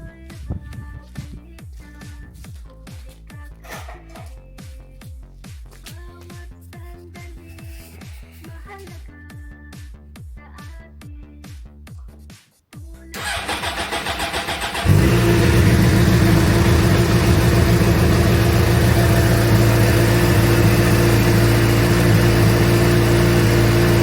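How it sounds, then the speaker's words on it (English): A 2006 Suzuki GSX-R750 motorcycle with hot oil runs with a steady mechanical note, then at about 15 seconds the engine fires and settles into a loud, sustained idle that lasts to the end. "So I'm going to start the bike up now."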